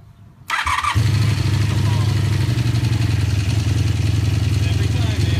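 A warm Triumph Speed Four motorcycle fires up on the first try after a brief crank, then settles into a loud, steady, close idle held with a touch of throttle.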